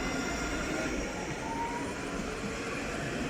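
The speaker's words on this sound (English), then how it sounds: "Tram number 235 we should actually now be departing with Nottingham Express Transit service to Hucknall." Nottingham Express Transit tram number 235 pulling away at Basford on the service to Hucknall, a steady, close rolling rumble with a faint high whine running throughout, no voices.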